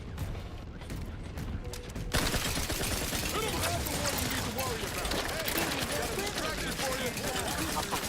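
Turrets in the video game Outer Worlds 2 open up in a sudden sustained burst of rapid mechanical gunfire that starts after a quiet moment and keeps rattling loudly, with a voice speaking over it.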